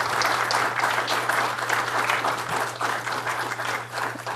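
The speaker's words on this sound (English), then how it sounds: "will you please join me in a round of applause for these folks?" A round of applause from a drought forum audience, many hands clapping at a steady, fairly loud level, with a low constant hum underneath.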